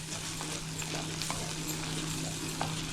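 Ground tomato paste sautéing in a pan for sundakkai kuzhambu, a continuous soft sizzle with a steady low hum beneath and a few faint scrapes of stirring.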